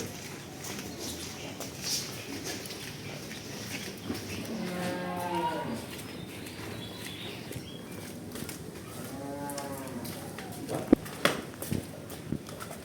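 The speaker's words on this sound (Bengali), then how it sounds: "তা আমি গরুটা আপনাদের সামনে দেখাচ্ছি" A pregnant heifer about ten days from her first calving lets out two drawn-out moos on a farm, the first longer and the second a few seconds later, with faint shuffling and a few sharp knocks between them and no clear speech.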